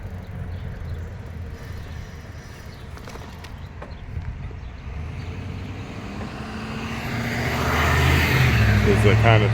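Car traffic passes a road crossing at the 8th Street trailhead in Lebanon, Pennsylvania, with a steady rumble of road noise. A vehicle approaches and grows louder toward the end.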